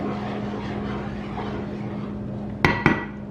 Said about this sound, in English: Stir the tomato puree in the oil